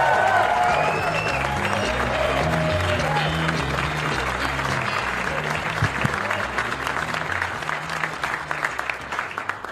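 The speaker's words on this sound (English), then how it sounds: "Let's give him a big rousing round of applause for Orlando Baxter" Loud, sustained applause from a comedy club crowd at Gotham Comedy Live welcoming Orlando Baxter, dense clapping with some cheering that gradually thins toward the end.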